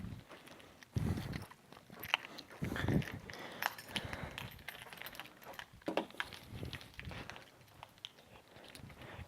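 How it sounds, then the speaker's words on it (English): Keys jangle and clink in short, uneven bursts close by while someone gets ready to lock up a church building, mixed with handling noises and footsteps. "Make sure I've got my keys here because I got to lock up the building."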